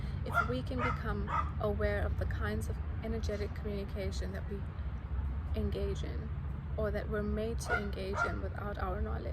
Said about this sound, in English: Sorry that the dogs are just going out there again.